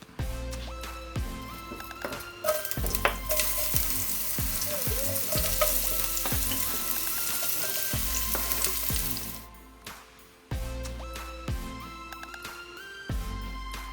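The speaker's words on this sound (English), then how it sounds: "I'm pouring about 2 tablespoons of oil and then I'll add the onions and stir it up" Onions frying in about two tablespoons of oil in a pot, loud steady sizzling with clattering stirring strokes and utensil knocks, close up, briefly dropping quieter before the sizzle returns.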